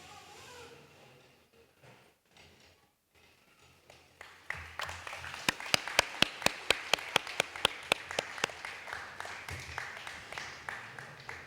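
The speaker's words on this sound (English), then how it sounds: "Let's give another big round of applause for the unveiling of the plaque today" Applause for a plaque unveiling at a primary school renaming ceremony in Tamavua, Suva: quiet murmuring gives way to a growing round of crisp, close hand claps, fairly loud and sustained to the end.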